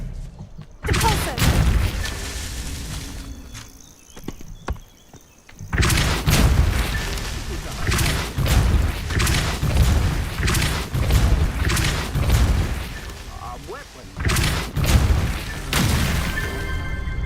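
Spell blasts in Hogwarts Legacy, including the Depulso spell knocking objects away, come as loud booming impacts and crashes in several bursts, separated by a brief quiet gap.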